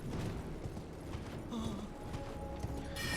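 Horse hooves clip-clopping in the Elden Ring video game, a steady rhythmic beat of the mount's footfalls with mechanical creaks layered over game ambience, no talk over it.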